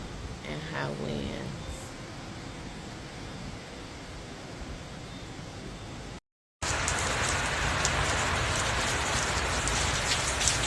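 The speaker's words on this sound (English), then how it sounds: "A lot of rain" Heavy hurricane rain from Melissa in Jamaica pours down as a dense, unbroken hiss on surfaces, with a short voice early on, a brief dropout, then an even louder, closer downpour.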